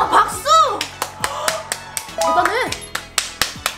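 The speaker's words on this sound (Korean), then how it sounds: "와, 박수!" A handful of sharp hand claps ring out one by one at a steady, spaced rhythm, mixed in with excited voices and squeaky, playful vocal sounds during a student talent stage performance.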